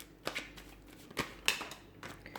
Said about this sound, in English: we'll give the cards a shuffle and see what comes up for you